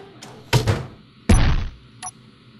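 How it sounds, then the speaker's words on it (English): A battle cannon fires in Space Engineers, two sharp, punchy thuds in quick succession followed by a smaller click, dry and fairly short with little rumble. "And now we're going to fire the battle cannon over here."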